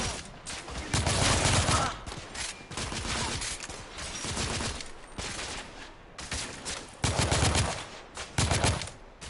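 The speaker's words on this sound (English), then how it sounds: "I'm taking heavy fire." Heavy gunfire in the video game The Order: 1886, loud sustained bursts of rapid automatic shots with brief gaps between volleys, dense and close, with no talk over it.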